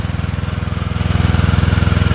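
A Cub Cadet XT1 50-inch riding mower engine runs steadily with a fast rhythmic throb that grows slightly louder partway through, close and alone.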